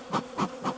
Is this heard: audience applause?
no